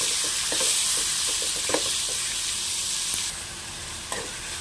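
Tomatoes sautéing with ginger garlic paste in a pan for a tomato buttermilk curry, a steady close sizzle throughout with occasional soft scrapes and stirs of a spoon, no voices.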